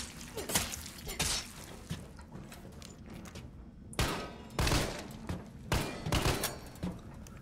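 Gunfire in the Resident Evil 3 Remake video game comes as several sharp, loud bursts, some clustered in quick succession, separated by quieter gaps.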